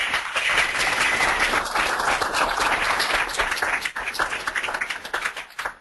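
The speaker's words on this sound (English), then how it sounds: "I hope that you hear the applause of the audience" An audience applauds after a presentation at an educational session, loud sustained clapping that thins out and fades toward the end, with no voices over it.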